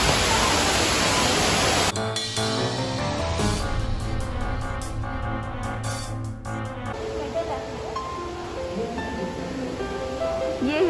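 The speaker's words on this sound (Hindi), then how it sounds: "वो और ये यहाँ से वाटरफॉल दिखाई दे रहा है" Waterfall in the Cloud Forest at Gardens by the Bay, a constant broad rushing roar heard throughout, with voices and music over part of it.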